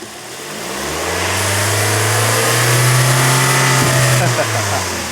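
A Toyota Corolla E210 engine with a cold air intake revs to about 4,000 RPM and holds a steady high drone with a loud intake rush, then eases off near the end.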